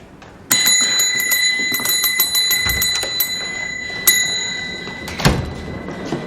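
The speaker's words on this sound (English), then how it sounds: "You're going to wear out the bell." A small hand bell, likely a desk or service bell, is struck again and again in a quick, insistent series of bright metallic rings, with a final louder ding near the end, close and clear in a quiet room.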